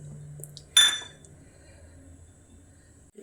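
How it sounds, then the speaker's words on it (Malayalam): Dishes and pots being washed, with one sharp clink of metal or glass against a pot, followed by quiet running handling noise and a soft knock at the end. "അപ്പോഴേക്കും 2-3 പാത്രങ്ങളുണ്ട് കഴുകാൻ."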